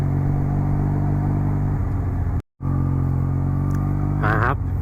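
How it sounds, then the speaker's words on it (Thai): A Yamaha Tmax 530 DX scooter engine drones steadily nearby with a deep exhaust rumble, briefly cutting out, then revving slightly amid traffic noise. "อย่างชอบเสียงท่อนะครับ"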